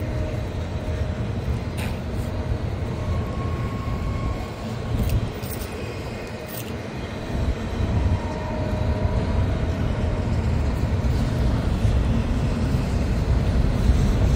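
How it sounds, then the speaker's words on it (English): A locomotive hauls an intermodal train up the steep Rat Hole grade. It gives a deep, continuous rumbling drone that grows slightly heavier as it goes on, with faint high squeals above it and no talk. "you guys can still hear that locomotive just"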